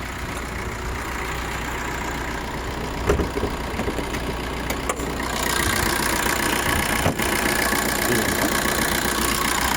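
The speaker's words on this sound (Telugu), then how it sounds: "నేను మీకు బానెట్ లేపి ఇంజన్ మొత్తం చూపిస్తా. ఇంజన్ సౌండ్ కానీ" A car engine idles with the bonnet raised, a steady close rumble that holds evenly throughout, gets slightly louder partway through, and has a couple of faint clicks and no voices.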